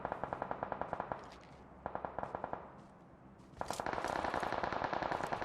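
Rapid automatic gunfire in a PUBG Mobile firefight, close bursts of rattling shots separated by short pauses, then a denser, louder stretch of continuous fire.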